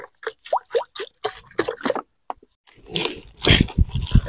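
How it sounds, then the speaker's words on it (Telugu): Water splashes and pours into half a kilo of rice being washed for a village-style chicken dum biryani. A loud, broadband rush fills the last second and a half, preceded by scattered wet clicks and plops. "మన రైస్లో వాటర్ పోసుకొని అయితే జరిగింది"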